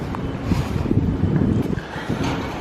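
Wind gusts buffet the microphone outdoors at Universal Studios Florida in light rain, a loud, continuous rumbling rush with no talking.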